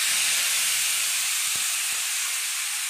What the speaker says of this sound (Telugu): దోరగా పచ్చిమిరపకాయలు వేయించుకోవాలి